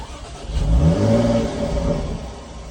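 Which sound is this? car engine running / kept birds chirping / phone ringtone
car engine running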